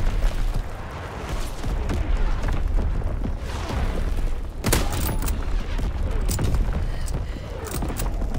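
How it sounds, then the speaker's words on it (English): Artillery fire in a war video game: a continuous rumbling barrage of distant booms and blasts, with one sharper close impact midway, dense and unbroken throughout. "Enemy artillery. Get to cover."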